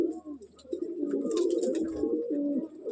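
A Madrasi pigeon coos in a loft, a low, throaty, rolling call repeated steadily for several seconds, close and moderately loud, with faint chirps and clicks in the background.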